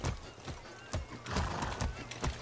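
A horse whinnies while hooves clop in a quick, uneven rhythm, loud and close, in the video game Far Cry 6.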